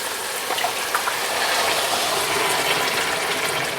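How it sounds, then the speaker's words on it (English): Dry pinto beans pour into a pot as a continuous rattling, hissing shower of small hard pieces striking metal, steady and close for a few seconds. "And now we're just going to go in with our beans."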